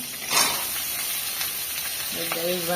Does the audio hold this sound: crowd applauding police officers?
no